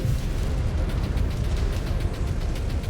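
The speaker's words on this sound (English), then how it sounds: "Exposed reactor. Explosion imminent." A deep, sustained rumbling roar of a mech reactor explosion in MechWarrior 5: Clans, loud and continuous, with a dense low-end boom and no voices.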